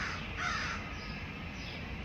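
A crow caws outdoors, one clear harsh call rising over a steady wash of background noise, fairly close and with no talking.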